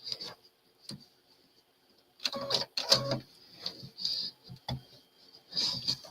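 An embroidery machine stitches a tumbler quilt block on a Circle Embroidelee setup. After a quiet start it runs in short, close, rattling bursts with a steady high whine and ticking needle strokes.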